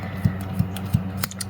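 Scissors snipping through fabric while a toy pillow is being made, three quiet crisp cuts at an even pace, close by and with nothing else heard.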